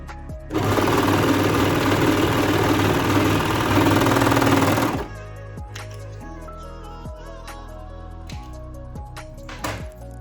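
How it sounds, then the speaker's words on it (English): A sewing machine stitches the neckband of a dog t-shirt in one loud, steady run of rapid needle clatter for about four seconds, then stops, leaving faint clicks and handling noises. "Sew the neckband up first."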